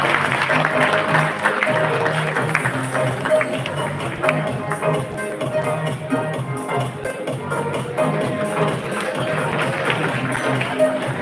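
Audience at an international data science engineering conference applauding an honored professor, a dense steady clapping from a large hall crowd with a voice speaking over it.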